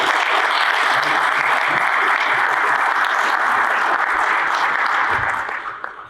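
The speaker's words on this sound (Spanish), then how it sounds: "Y bueno, pues otro aplauso para todos ustedes que están aquí también" A large audience applauds at the opening session of a national congress, with loud sustained clapping throughout that fades out at the end.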